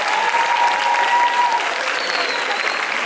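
Applause from a cosplay contest audience at a spring anime convention, steady dense clapping filling the whole stretch at fairly loud level, with no speech over it.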